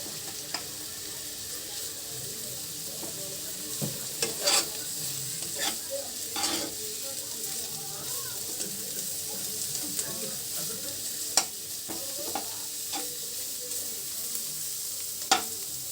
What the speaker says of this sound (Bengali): পেঁয়াজটাকে আমার ভেজে নিতে হবে